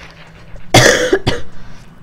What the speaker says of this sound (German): Ich versuche so gut wie möglich nicht ins Mikro zu husten.